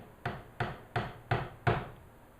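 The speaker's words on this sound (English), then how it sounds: "it's like hammering a pin" Five evenly spaced hammer taps drive tiny short brads into thin wooden slats for a kitchen cart, each strike a crisp close knock with a short ring, steady rhythm, no talk.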